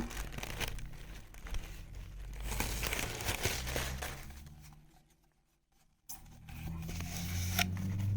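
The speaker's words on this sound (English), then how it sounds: "We've got a scroll. So let's unwrap that." A paper scroll being unwrapped from a mailed parcel: soft crinkling and rustling paper handled up close at low volume, a quiet pause, then renewed rustling.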